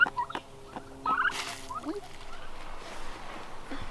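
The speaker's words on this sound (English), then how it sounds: "Turkeys are eternally curious." Young but large farm turkeys gobble in short bursts near a rabbit-powered garden setup, mixed with soft rustling and low background noise.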